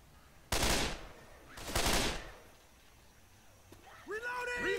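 Two loud, broad bursts of gunfire in Left 4 Dead 2 arrive about a second apart. Quieter game noise and voice-like tones follow near the end.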